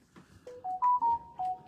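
A mobile phone ringtone plays a short rising-and-falling electronic melody of sustained beeping tones, clear and fairly close, with low background murmur beneath.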